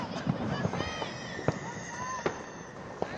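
Fireworks bang in sharp, scattered pops around a university football match between Salford and Liverpool Hope, with bonfires burning nearby, several loud cracks rising over steady crowd noise and people talking close by.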